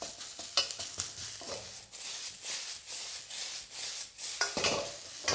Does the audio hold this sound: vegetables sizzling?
yes